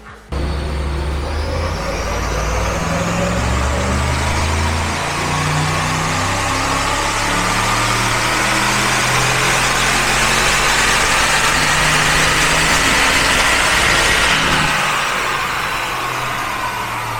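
The engine of a Mercedes-Benz G63 AMG roars loud and sustained during a power test, climbing steadily in pitch through a long acceleration run before easing off at the end.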